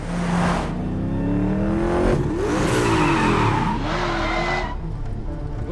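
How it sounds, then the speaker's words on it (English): Car chase in The Punisher TV series: engines roar and rev while tires squeal and skid in several sharp, pitch-bending bursts, loud and close. "I sense a car chase"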